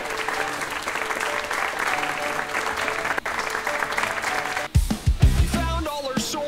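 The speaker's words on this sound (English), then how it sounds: "clapping" Steady, dense applause from a crowd at a music performance, continuous clapping for several seconds that briefly dips and then resumes with a few louder, isolated claps near the end.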